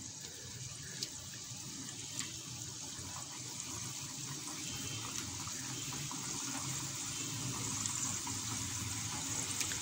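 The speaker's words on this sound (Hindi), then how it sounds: "ऑयल गर्म हो गया है और अब इसमें हम डालना शुरू करते हैं।" Namak paray dough pieces sizzle in hot oil over medium heat, a continuous soft hiss and crackle that builds slightly louder toward the end, with no voices.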